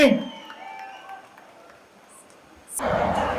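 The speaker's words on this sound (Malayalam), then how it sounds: "കുറെ കൂടെ ഗംഭീരമായ കൈയടി for the one and only Kamal" A crowd at a Kochi event for Kamal Haasan breaks into loud, dense applause near the end, after a quieter stretch with a voice on a microphone.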